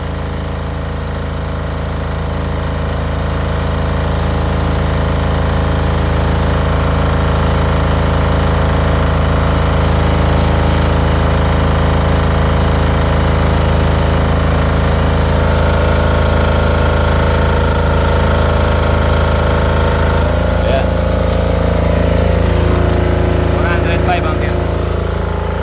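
A Toyohama TYDi-13000i diesel silent inverter generator runs under load with a steady low droning hum and even engine tone throughout, with a voice talking faintly over it.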